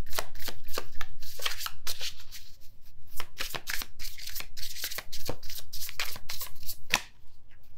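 Tarot cards shuffled by hand in a run of crisp riffling bursts and slaps, close and fairly loud, with short pauses between bursts and no talking.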